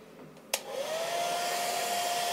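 A hair dryer blows on a pet bat. It clicks on sharply, then settles into a steady, close whirring hum with a thin whining tone and no voices.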